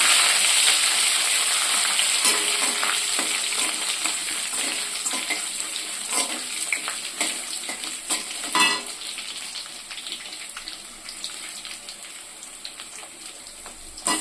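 Crushed garlic and ginger sizzle steadily in a hot pan for a kurma kulambu, a bright continuous hiss that fades slowly, with occasional stirring clicks.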